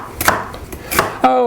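A knife chops through raw chicken on a cutting board for a stir fry, with a few quick, crisp strokes and a louder final cut, close and unaccompanied.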